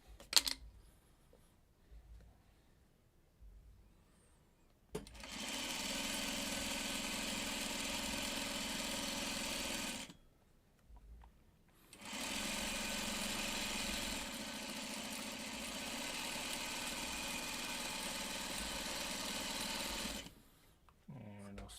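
A sewing machine stitches quilt block pieces in two long steady runs of fast whirring, each about five to eight seconds, separated by quiet pauses with soft handling sounds.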